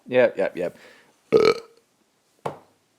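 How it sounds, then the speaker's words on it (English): One close, loud belch opens, followed by a second shorter burp and a faint third, with a brief syllable just before them. "just me burping end video"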